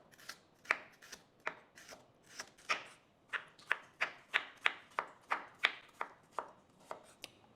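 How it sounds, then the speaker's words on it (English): A knife slices shallots on a cutting board in a steady run of about fifteen crisp, close chops, evenly spaced and unaccompanied by talk. "while we are slicing our shallots"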